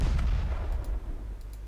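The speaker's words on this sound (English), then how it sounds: "They're launching their torpedoes, I'm launching mine." Naval battle in Ultimate Admirals: Dreadnoughts as warships launch torpedoes, with heavy low booming bursts of gunfire rumbling continuously, close and loud, with no speech.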